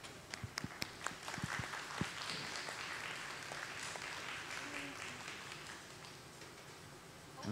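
Audience applause at a live glass art demonstration, a moderate, steady patter of clapping heard at a distance with a few sharper claps near the start, fairly quiet overall.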